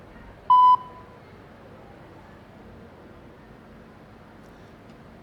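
A single short electronic beep sounds near the start, then a long stretch of quiet background hiss.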